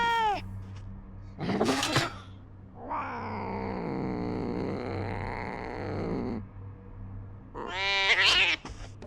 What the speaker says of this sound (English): Bro, that is an evil looking cat.